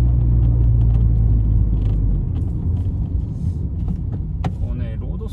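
A 2005-era style Mazda Roadster 1.5 S with a six-speed manual and a throttle controller pulls hard, a loud low engine rumble that eases after the first couple of seconds into steadier road noise with small cabin rattles.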